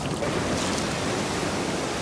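Ocean surf washes in at Laguna Beach as a steady, broadband rush of breaking waves mixed with wind buffeting, continuous and fairly close.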